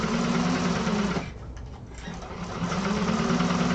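A sewing machine stitches with almond-coloured thread, whirring loud and close in a steady hum, pausing briefly and then running again.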